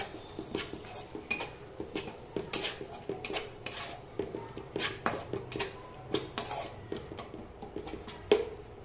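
A spoon scrapes and knocks against a cooking pan while poppy seed paste is stirred into melted tomato for rohu posto, giving a steady run of soft metallic clinks and scrapes close by.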